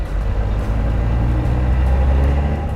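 Noisy street traffic in Cuba, with cars rumbling by in a steady, loud low drone and no voices over it.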